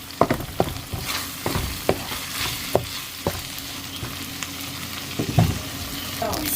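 Garlic and onion sizzle steadily in a pan while being stirred, with sharp scraping clicks from the utensil recurring every half second or so over the continuous frying hiss.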